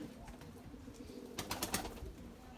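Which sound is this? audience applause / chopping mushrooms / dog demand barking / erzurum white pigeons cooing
erzurum white pigeons cooing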